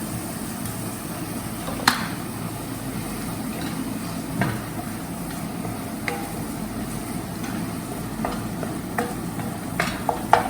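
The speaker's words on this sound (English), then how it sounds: "Let the oil separate from the tomato. Till then you have to go on mixing it nicely, stirring it." Tomato frying in oil while being stirred, with a steady sizzle and scattered scrapes and knocks of the spoon against the pan; no talking.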